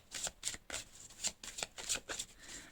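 Playing cards shuffled and drawn for a tarot-style card reading, giving a run of crisp riffling bursts roughly every quarter second, fairly close and quiet, with no talking.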